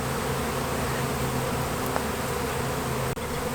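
A honeybee swarm buzzing steadily around a hive, a dense, continuous drone close by with no pauses, holding an even level throughout.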